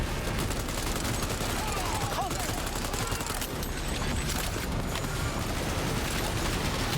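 Rapid gunfire from a firefight in Cyberpunk rattles continuously at close range, dense bursts layered over game noise and mechanical clatter.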